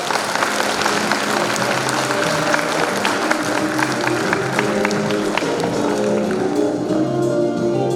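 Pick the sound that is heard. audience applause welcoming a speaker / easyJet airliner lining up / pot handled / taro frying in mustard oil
audience applause welcoming a speaker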